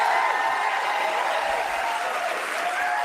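Live audience at a talk radio broadcast cheering and applauding, a dense continuous wash of clapping and crowd voices, steady and fairly loud from start to end.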